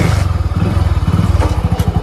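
A motorcycle engine idles just after being started, loud and close with a steady low chugging pulse and some mechanical clatter, with no voices.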